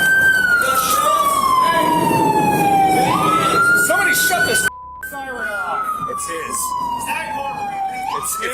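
A loud wailing siren sweeps down and up in pitch, cuts out briefly, then resumes its rising and falling wail close by.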